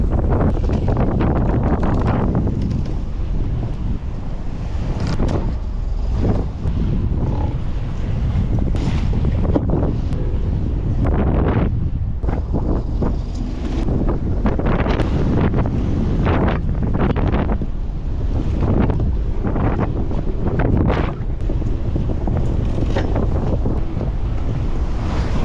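Strong wind gusts buffet a moored sailboat, a loud roaring rush with repeated surges and microphone buffeting over the sound of water, continuous for the whole stretch.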